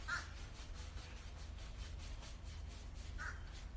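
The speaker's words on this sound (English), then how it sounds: "we've got 12 crows nesting in the tree behind the house" A few crows caw from a tree behind a house, nesting there in a group of about twelve. Two short, faint, distant caws, one at the start and one near the end, over a soft low background hum.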